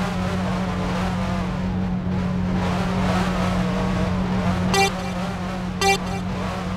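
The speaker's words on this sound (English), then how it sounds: "Ferrari F355 Challenge." Ferrari F355 race car engine in the F355 Challenge Passione Rossa video game at a race start, a steady loud engine drone with two short horn-like blips late in the stretch.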